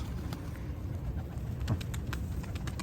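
A pigeon coos softly amid quiet outdoor background noise, with a few faint clicks and rustles.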